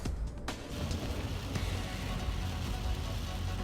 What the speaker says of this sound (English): You can hear that rain coming down.